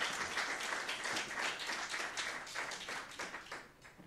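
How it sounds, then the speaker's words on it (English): Steady audience applause fills a folk music showcase, greeting fiddler Scott Duncan from Calgary, Alberta: a dense, continuous patter of many hands clapping at moderate distance, fading slightly toward the end. "Please give a big round of applause."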